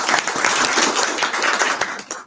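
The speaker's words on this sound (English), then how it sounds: "a big, big round of applause for all the IYC team" A conference audience at an opening plenary applauds in a dense, steady patter of many hands, fairly loud and close, fading out at the end.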